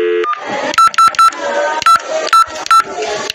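A telephone is dialed to reach the operator: a rapid series of six short, loud touch-tone beeps at irregular intervals over background voices and noise.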